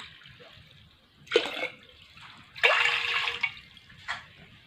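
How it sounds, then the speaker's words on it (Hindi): Water from a glass is poured into a cooking pot for sweet kheer in several short splashing bursts, with quiet pauses between them and a faint background hum. "हाणे असां देगड़ीअ में 1 गिलास पाणी जो विझंदासीं"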